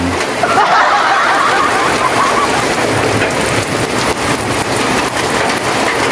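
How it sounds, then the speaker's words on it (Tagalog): Steady rain pours down over a garden of potted plants and vegetables during May, a dense unbroken hiss of drops on surfaces. It stays loud and constant throughout, with faint rumbles that may be thunder. "ito guys yung pangalawang ulan sa loob ng 4 na buwan"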